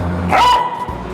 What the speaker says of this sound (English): hearing her bark makes me happy